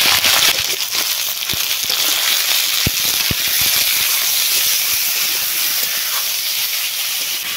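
Sliced potatoes, shrimp and salt tipped into a pan of lightly fried onions give a loud, steady hissing sizzle with scattered sharp crackles throughout, and no voices.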